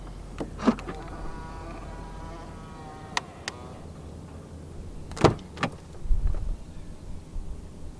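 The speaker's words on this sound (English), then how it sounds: "And to unlock the car, just press the black button again." A quiet car lock mechanism clicks and whirs a couple of times as a 2023 Proton Persona 1.6 Executive unlocks via the keyless door handle button, with a soft low hum and faint rustling between, no talking.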